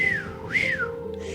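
A person whistles a short two-part tune, a clear rising-and-falling note followed by a second swooping phrase, close and prominent.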